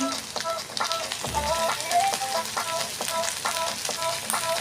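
Chopped garlic and ginger sizzle and crackle steadily in white oil in a pan, a busy frying patter with small pops and a soft clink partway through.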